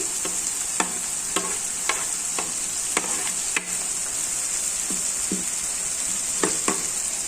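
Fenugreek leaves and fresh mint fry in a pan with a steady, loud sizzle, broken by occasional soft scrapes of stirring.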